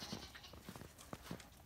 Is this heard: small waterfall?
no